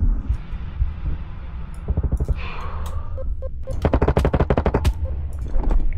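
A gun fires in a video game in several rapid automatic bursts of sharp, evenly pulsed shots, loud and close, with brief gaps between volleys.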